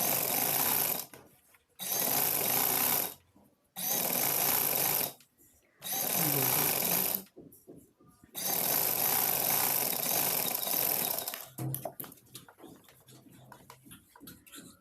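A sewing machine stitches a kameez at a half-inch margin, running in four loud bursts of a few seconds each with brief pauses between, the last run longest, followed by quieter handling sounds.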